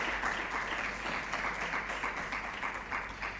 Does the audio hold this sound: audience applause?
yes